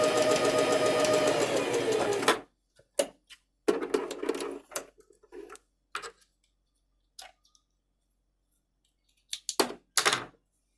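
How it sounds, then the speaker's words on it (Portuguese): A sewing machine set to its smallest stitch runs steadily at first, then stops and gives short, separate bursts of slow stitching with quiet gaps between them, close by. "Aí ela já costura mais devagar, mais lenta."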